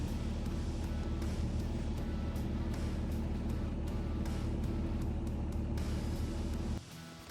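An RV rooftop air conditioner runs with a steady, loud droning hum and broadband rush that holds unchanged for several seconds before cutting down abruptly near the end.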